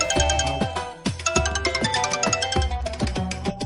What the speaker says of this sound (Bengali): এই সময় এবার কে ফোন করলো?